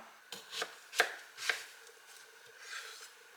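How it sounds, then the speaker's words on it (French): Knife slicing small courgettes in half lengthwise on a board, giving several crisp, close chopping strokes spaced about half a second apart with no talking. "La première étape, ça va être de couper nos petites courgettes en deux, dans le sens de la longueur."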